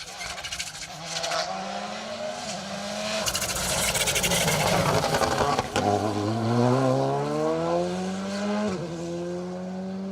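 A Melvin Evans Motorsport VW Polo R5 rally car on an asphalt stage of Rally Ceredigion 2023 snarls loudly past, its engine pitch climbing through several sharp gear changes, then dropping as it passes and pulls away.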